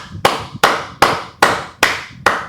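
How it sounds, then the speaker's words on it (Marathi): Six sharp hand claps land at an even pace, roughly two or three per second. They sound loud and close, each with a short fading ring, and no one talks. "टाळ्या"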